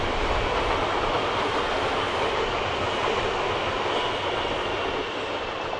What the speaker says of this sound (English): let the train go past